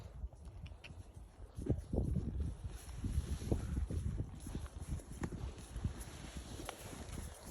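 Pack horses loaded with boned-out elk meat walk along a Montana hunting trail, their hooves clip-clopping in an uneven, steady rhythm close by over light wind noise, with no talk.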